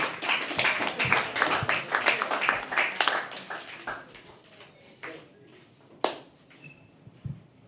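An open mic poetry audience at The Habitat claps for the next poet, a lively burst of many hands that thins out after about four seconds, leaving a few scattered claps, a sharp thump and a quiet room.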